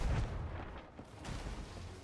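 Ship cannons in the pirate game Sea of Thieves fire in a short burst of low, rumbling booms, several heavy thuds in quick succession with a muffled, distant quality and no talking.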